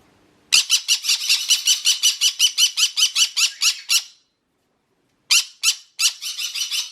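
Scampy, a pet parrot screaming at the sight of crows, gives a fast run of about fifteen shrill, piercing calls, then a short silence, then a few more harsh screeches, all loud and close.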